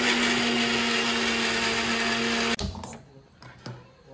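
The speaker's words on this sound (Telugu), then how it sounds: "mixie పట్టాడే madam" A kitchen mixer grinder whirring loudly at a constant high pitch while grinding chutney with green chillies and salt, then cutting off abruptly, followed by a few faint clatters.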